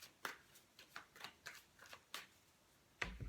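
Tarot cards are cut and shuffled by hand, giving a series of about ten soft, riffling swishes at a steady rhythm, close and quiet, followed by one heavier shuffle at the end.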